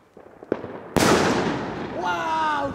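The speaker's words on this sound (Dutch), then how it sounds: "Oh, dat is een hele goede knal." New Year's fireworks go off close by: a small pop, then a big sharp bang that trails into a long crackling fizz, and a voice rises briefly near the end.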